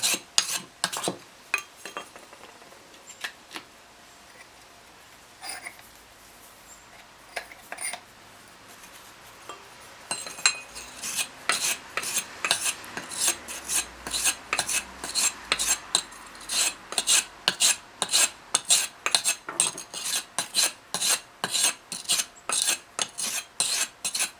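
Ninja mulcher blade being sharpened by hand on a grinding stone: scattered soft scrapes at first, then a close, steady run of rhythmic rasping strokes, each a bright gritty swish of metal dragged across stone.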